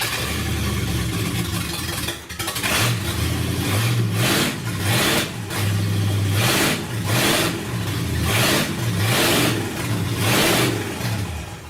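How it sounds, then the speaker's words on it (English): The engine of a 79 Limited with a dropped exhaust revs repeatedly, rising and falling in a steady rhythm of throttle blips, loud and close with no talking. "if I rev this thing up like that"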